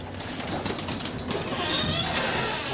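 Saharanpuri pigeons of a fine breed, kept in an outdoor netted enclosure, coo softly and steadily close by, with no voices over them.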